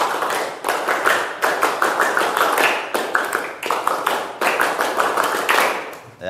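A class of students does the Pramuka scout clap together, sharp hand claps in a patterned rhythm of quick bursts and short gaps, loud and near, with faint voices underneath.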